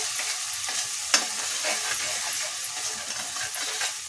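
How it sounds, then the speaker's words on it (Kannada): Vegetable saagu masala frying in a pan while being stirred, a dense steady sizzle broken by a few sharp scraping knocks of the spoon against the pan. "ಈ ರೀತಿಯಾಗಿ ಚೆನ್ನಾಗಿ ಮಸಾಲೆ ಎಲ್ಲ ಫ್ರೈ ಮಾಡಿಕೊಡಿ"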